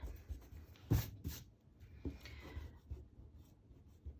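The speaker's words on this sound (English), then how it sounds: "I'm just going to go in and erase any blocking lines that I don't need" An eraser rubs out pencil lines on paper in short, quiet scrubbing bursts with brief pauses, close and soft.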